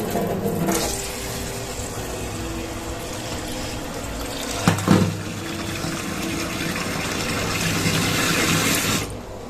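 Water for tea boils in a pot on a gas stove, a loud continuous bubbling roar with a steady burner hiss underneath and a couple of brief louder surges, no talk.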